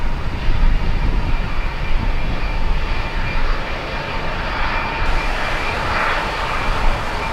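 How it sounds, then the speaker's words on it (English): Jet engine roar from a Lufthansa airliner with CF6 engines at Miami International Airport, a loud, steady broadband rumble swelling slightly as the engines power up, with no talk. "CF6 engines powering up"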